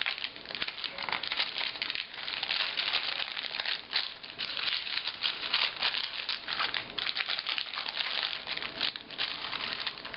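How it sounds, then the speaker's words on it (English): Crinkly painted paper pages are turned one after another, giving a steady close-up crackling and rustling with no talking. "I know probably all you can hear is that crinkly sound, but it's my favorite. I love crinkly paper sounds."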